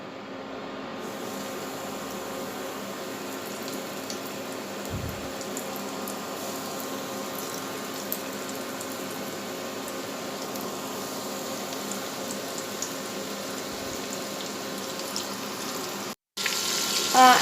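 Chicken pieces sizzle steadily in hot oil, a continuous dense hiss with a crackling spray that holds at an even level throughout, close and alone, with a brief dropout near the end.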